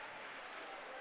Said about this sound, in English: Trenton fans still applauding.